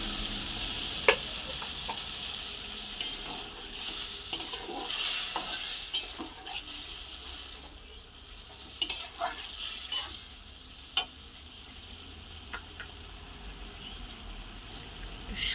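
Ridge gourd sizzles and bubbles in a frying pan after water goes in, a steady hiss broken by scattered clinks and stirring scrapes of a spoon against the pan, close and moderately loud.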